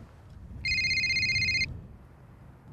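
A telephone ringtone on a golf course rings steadily for about a second, a bright electronic trill standing out clearly over quiet outdoor background noise, with no talking.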